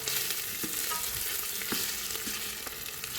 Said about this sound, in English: So we will bring the onions on cooking until they are starting to clarify a little bit